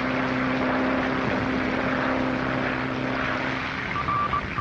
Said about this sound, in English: piloting his plane through terrific storms across the Atlantic Ocean